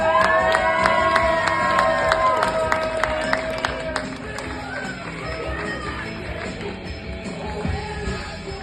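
A live comedy club audience cheers and applauds for a stand-up comedian taking the stage, with loud whoops and sustained clapping that gradually thin out into scattered claps and crowd murmur.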